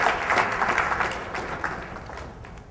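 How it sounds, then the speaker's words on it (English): Audience at a Barcamp Bangalore feedback session breaks into steady applause for the organizers and speakers, a dense, fairly loud patter of many hands that gradually tapers off. "Just a round of applause for all the organizers and the speakers."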